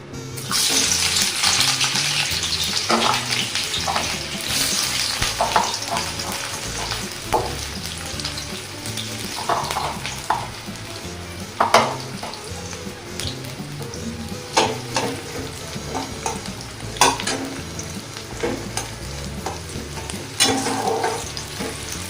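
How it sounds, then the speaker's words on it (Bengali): Chopped onions frying in very hot oil in a kadai, a loud dense sizzle that hisses strongly at first then settles, with intermittent spatula scrapes and knocks, close and with no voices. "এবার আমি এর মধ্যে পেঁয়াজ কুচিগুলো দিয়ে দেবো।"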